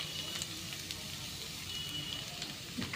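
Chopped chillies and tomatoes fry in a pan with a steady, close sizzle and crackle that holds evenly throughout, without voices.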